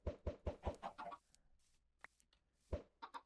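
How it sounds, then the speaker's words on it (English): A baby chicken in Minecraft giving short clucks in a quick run of four, then a pause with faint scattered game sounds and a few more clucks near the end. "Oh, you dumb fucking baby chicken."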